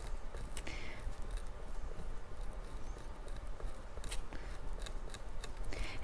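Scissors snip heat transfer vinyl off a shirt in a few quiet, scattered cuts over a low rumbling background, faint and close, with no talking.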